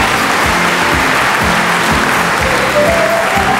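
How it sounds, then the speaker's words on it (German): A studio audience at a 1981 German TV game show claps for the referees as they come on, a dense, loud, sustained round of applause heard close, with no talking over it. "Applaus und Auftritt für unsere Schiedsrichter."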